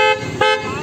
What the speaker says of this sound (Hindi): एक बार हॉर्न बजाना